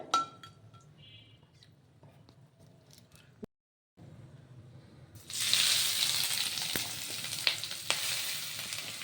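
Dried red chillies hit hot oil halfway through, setting off a loud, steady sizzle with occasional clinks of a utensil; before that, quiet kitchen sounds with a faint voice.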